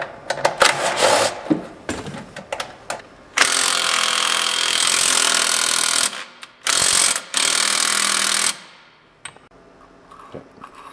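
A power tool whirs and ratchets in close, loud bursts while removing screws from the clutch guard of a Polaris Sportsman ATV, with a long sustained run in the middle, a shorter burst after it and a quiet tail.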